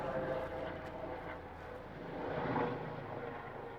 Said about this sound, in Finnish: Joo, tää on mediheli.